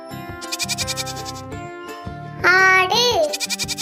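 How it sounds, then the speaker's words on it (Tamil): Goat bleating in a quavering, harmonic burst of about two calls in the middle, loud and close, set among child-like spoken words and a light musical backing. "ஆடு"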